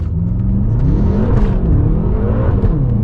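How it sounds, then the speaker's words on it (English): A 560bhp BMW M5 launching at full throttle from inside the cabin, the engine roaring loud and close as the revs climb steadily, with a whirring drivetrain note rising underneath. "We'll wait for this car to go and then we'll just basically plant the throttle"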